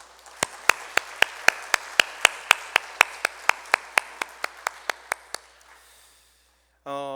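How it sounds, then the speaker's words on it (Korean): Steady, rhythmic clapping in unison from a church congregation, around twenty sharp claps at an even pace that fade slightly before stopping. "먼저 하나님께 영광의 박수 올려드리기 원합니다"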